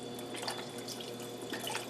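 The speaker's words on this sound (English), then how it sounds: "Now I'm going to add some chicken stock." Chicken stock pours steadily into a pot of southwest chicken chili, a continuous splashing liquid stream at close range with no talking.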